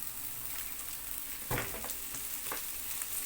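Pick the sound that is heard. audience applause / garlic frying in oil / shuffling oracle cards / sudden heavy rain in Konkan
garlic frying in oil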